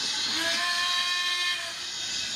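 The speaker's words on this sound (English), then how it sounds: "Do you want to sound the horn, please?" DCC sound horn on a model railway locomotive, a sustained tonal blast with several clear pitched lines held for about a second and a half, then fading into a quieter lingering tone, with no talk.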